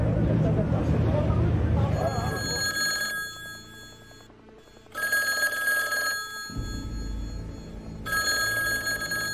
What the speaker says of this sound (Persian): تلفن دفتر رئیس جمهور در تهران به صدا در می آید